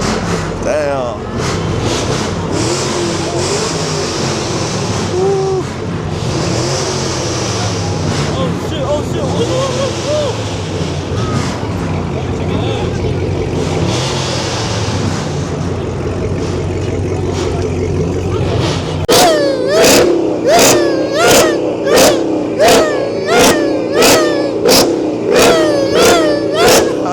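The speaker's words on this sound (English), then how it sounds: "They revving that shit down here though" Dodge Hellcat cars rev their engines at a downtown St. Louis street car meet, with a steady crowd and engine rumble giving way to a rapid series of loud, sharp revs near the end while people talk throughout.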